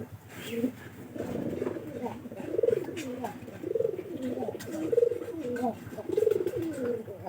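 Pigeons coo repeatedly in soft, rolling phrases nearby, a steady rhythmic series with faint background rustle.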